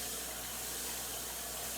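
Two cups of water are poured or run from a tap for a home recipe. The flow gives a steady, continuous rush that fills the whole short stretch with no talking.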